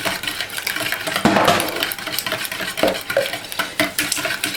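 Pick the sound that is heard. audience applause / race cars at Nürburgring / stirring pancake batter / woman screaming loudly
stirring pancake batter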